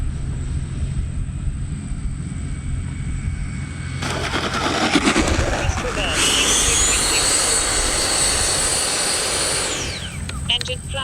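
An E-flite F-16 RC jet with a 70mm or 80mm ducted fan rolls out on landing and uses reverse thrust, its electric fan whine swelling to a loud, rising roar midway, then cutting off sharply near the end.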